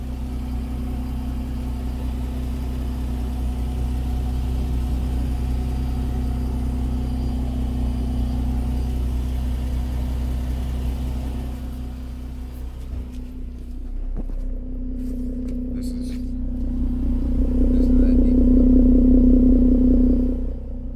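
Chrysler 200 engine fitted with a Corsa exhaust and Mopar cold air intake, a deep steady idle drone heard close, a brief dip, then the tone rising into a louder, throaty rev near the end.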